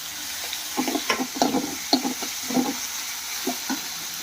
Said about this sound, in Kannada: ಈಗ ಟೊಮೊಟೊ ಹಾಕೊಳ್ಳಿ